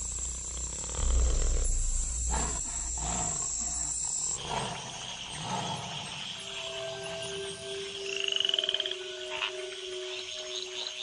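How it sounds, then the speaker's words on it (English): Tree frogs croak in a dense chorus among other wild calls, with scattered throaty croaks and a few steady tonal whistles, heard fairly close. "In the wake of the rains, the tree frogs gather for bouts of communal coupling."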